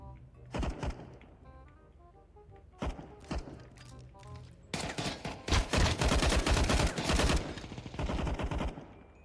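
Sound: gunfire from the video game Counter-Strike 2

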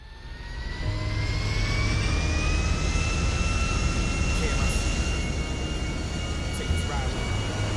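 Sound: private jet flying in GTA 5 video game

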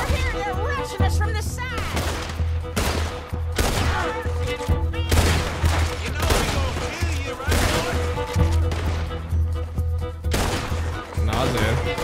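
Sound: gunfire in video game Red Dead Redemption 2

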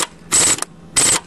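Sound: air tool tightening nut on Honda XL250 timing chain

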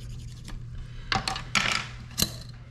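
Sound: plastic burnishing tool rubbing a rod thread wrap

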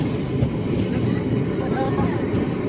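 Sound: train departing station

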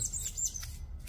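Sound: bird singing

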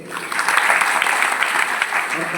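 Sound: audience clapping loudly

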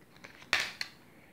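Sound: oracle card being drawn from a deck

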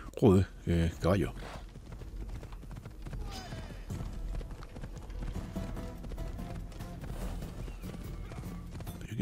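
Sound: horse galloping and neighing in video game Assassin's Creed Odyssey

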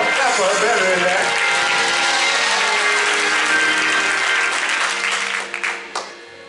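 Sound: audience applause

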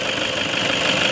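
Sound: Toyota Innova 2009 diesel engine idling

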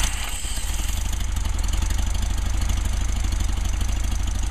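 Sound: cold engine starting up

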